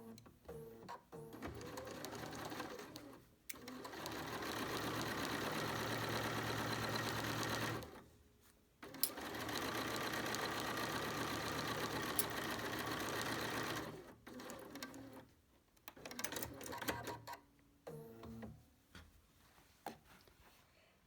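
A BERNINA sewing machine stitches a fabric face mask, running in two long steady bursts of rapid mechanical whirring separated by brief pauses, followed by shorter stop-start stitching near the end.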